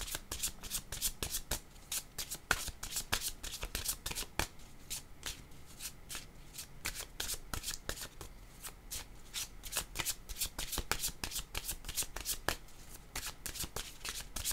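Tarot cards being shuffled by hand, a rapid run of crisp riffling clicks repeating steadily, close and fairly quiet, with no talk over it.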